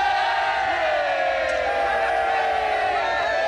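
A crowd of soldiers cheers in the trenches, a sustained massed roar of voices with whoops and yells running unbroken throughout, loud and close.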